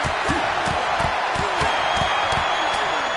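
A wrestling arena crowd in WWE 2K26 roars in a dense, loud, continuous wash of cheering, punctuated by rhythmic thumping impacts.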